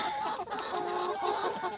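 Close-up, continuous clucking and soft chirping from a young chicken, fairly loud and unbroken.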